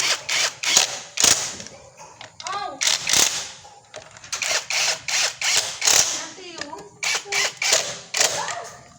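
A ratchet tightening the oil pan bolts on an older Honda Supra motorcycle engine, heard as repeated close, loud bursts of rapid clicking in a steady working rhythm, alone without talk.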